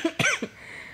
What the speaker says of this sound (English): we're both coughing again